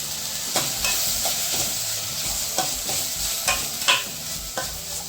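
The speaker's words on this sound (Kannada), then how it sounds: "ಸ್ವಲ್ಪ ಹೊತ್ತು ಹೀಗೇನೆ ಹುರಿಯುವ" Tomato and capsicum stir-fried in a pan for Indian masala pasta, with a steady sizzle broken by irregular spatula scrapes and clinks against the pan, no voices.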